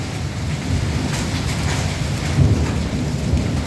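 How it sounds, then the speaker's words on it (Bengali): A thunderstorm pours heavy rain and hail in Keshabpur, a loud, continuous drumming downpour with low rumbling thunder underneath. "দেখুন কি পরিমাণে ঝড় হচ্ছে, বৃষ্টি হচ্ছে"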